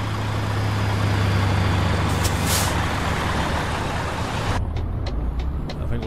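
A truck in Euro Truck Simulator 2 brakes to a halt. A steady loud engine and road rumble ends in a sharp hiss of air brakes, then the rumble cuts off and a few faint clicks follow.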